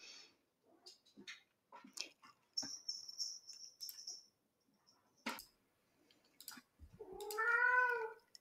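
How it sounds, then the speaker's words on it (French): Domestic cat making noise indoors: scattered soft taps and clicks, a short chirping trill, then a drawn-out, wavering meow near the end, fairly quiet overall. "le chat est en train de jouer et de faire du bruit"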